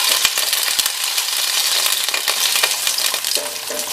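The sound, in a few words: paneer pieces sauteing in oil in a hot pan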